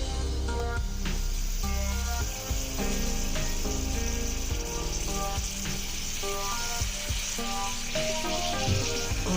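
Pumpkin seeds with a couple of drops of honey fry in a pan, giving a steady close sizzle with scattered pops and stirring scrapes under background music.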